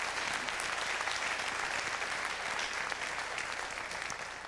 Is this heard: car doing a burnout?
no